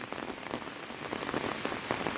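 Heavy storm rain pours down steadily in a rural Thai village, a dense hiss of drops drumming on a surface with scattered louder spatters, close and continuous.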